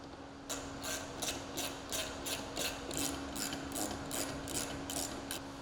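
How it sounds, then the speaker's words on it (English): A ratchet clicks in a steady series of about a dozen quick strokes while tightening nuts on a front roof lightbar mounting kit for a 2024 Polaris Xpedition XP/ADV, close and clear with no talk. "Now install a nut and tighten both nuts to specification."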